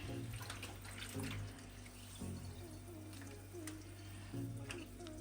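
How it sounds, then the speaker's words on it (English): Tap water runs steadily while it rinses down and melts ice, a continuous hiss with splashing surges that come and go as the flow hits the surface. "I'm just going to rinse this down slowly"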